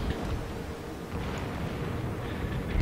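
Rapid secondary gun batteries of a US Arkansas battleship firing in World of Warships, a dense rolling barrage of booms and bursts that carries on steadily throughout.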